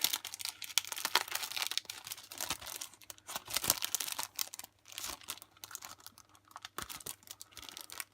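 A plastic bag crinkles and rustles in irregular bursts up close, with crisp crackling handling noises throughout and no talking.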